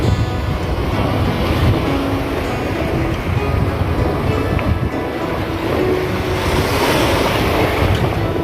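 Sea waves washing over a rocky shore, a loud, continuous roar of surf mixed with heavy wind buffeting the microphone.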